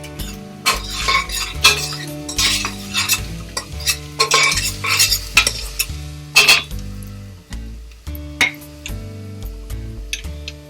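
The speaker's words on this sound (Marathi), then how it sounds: "कांदा गुलाबी रंगावर झाला की आलं लसूण पेस्ट टाकायची आणि छान परतायचं, त्याला भाजायचं" Onion frying in a pan with turmeric and salt for a village-style mutton dish, stirred vigorously so a metal spoon scrapes and clanks rhythmically against the pan over a continuous sizzle.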